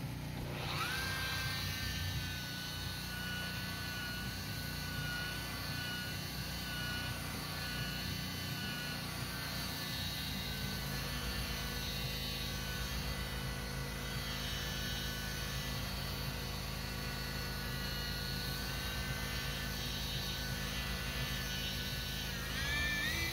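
A steady motorized whine of a rotary buffer running continuously with compound on boat gelcoat, with a constant high-pitched drone and low rumble throughout, no pauses.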